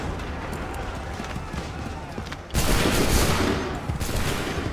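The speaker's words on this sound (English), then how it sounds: "Open fire." A line of soldiers fires a musket volley in the Assassin's Creed 3 video game: a sudden, loud crackling burst of many shots that rolls on for over a second, with shouted commands and background battle noise.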